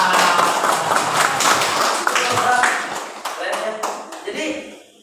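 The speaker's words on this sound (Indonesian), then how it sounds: "Tepuk tangan." A group in a classroom-style session clapping together, a burst of close, sharp claps that tapers off, with voices talking over it.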